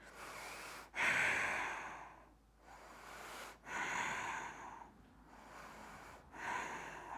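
Slow, deep breaths in a yoga bridge pose, with four or five audible inhale-exhale cycles close to the microphone, airy and soft, with no speech.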